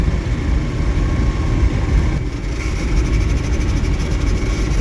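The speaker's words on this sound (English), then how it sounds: "Something sounds clanky and rattly. So I am just coasting." A 1976 MG Midget converted to electric power coasts with no motor drive and a damaged transmission, giving a loud, steady, close rumbling roar with rattly vibration throughout.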